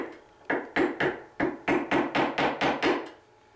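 A screwdriver tapping a nail into a Consew sewing machine table, heard as about ten sharp, close knocks in a fairly regular rhythm, loud against a quiet room with no talk.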